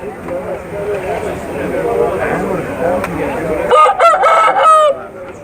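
Roosters crowing at a busy poultry market, a couple of loud close crows near the end following steady crowd chatter and bargaining voices.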